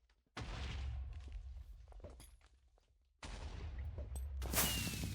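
Magic spell projectiles burst in the Minecraft Goety mod, two loud blasts each followed by a sustained rumbling decay, the second ending in a brighter crackle.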